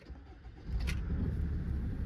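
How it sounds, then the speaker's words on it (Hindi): A SsangYong Rexton SUV engine cranks and catches, a short starter burst followed by a steady low idle rumble close by. "तो गाइस अभी मैं आपको ये गाड़ी स्टार्ट करके बताता हूँ"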